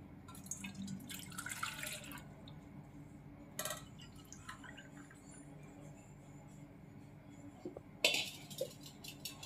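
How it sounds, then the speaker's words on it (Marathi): Buttermilk is poured into a vessel in a home kitchen, heard as a few short, quiet liquid splashing bursts separated by near-silent gaps. "त्यासाठी मी ताक घेत आहे"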